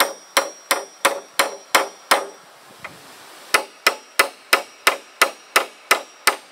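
Spikes are hammered into wooden floor beams for a firewood shed, sharp evenly spaced blows ringing out close and loud, about seventeen strikes with a brief pause midway.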